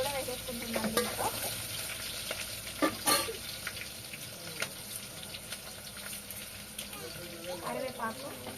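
Onions, green chillies and crushed garlic fry in a pan with a steady, close sizzle and occasional clatter of stirring, broken by a few brief louder knocks.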